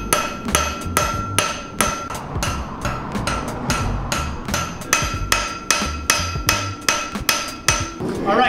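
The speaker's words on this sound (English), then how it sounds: "We got maybe 1 or 2 more hammerings to get this just drawn out and shaped" Close, ringing hammer blows on a hot steel marking knife blank at the forge, coming in a steady rhythm of roughly two strikes per second with brief pauses and no talking.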